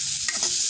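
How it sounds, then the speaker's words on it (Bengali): Brief close sizzle of onions frying in oil in a pan for a fish-head and taro curry, with a single stirring scrape in the middle. "ভেজে নিলে পেঁয়াজের গ্রানটা তরকারির মধ্যে সুস্বাদু লাগে"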